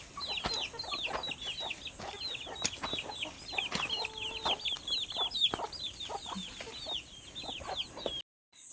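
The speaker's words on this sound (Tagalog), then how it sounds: "Sunod-sunod kong mga manok." A flock of chickens clucking steadily close by, overlapping bursts of short calls over a busy outdoor farmyard background, running continuously until a brief dropout at the end.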